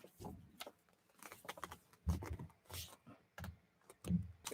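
Quiet, irregular taps and clicks on a computer keyboard, close by, coming in short bursts with pauses between them and no voices.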